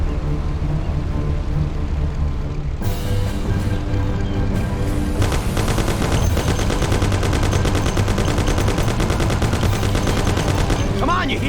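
Thompson submachine gun fire in the game Mafia: after a few seconds of engine-like rumble, rapid, loud bursts of automatic fire break out and continue almost without pause, with more shots layered on top.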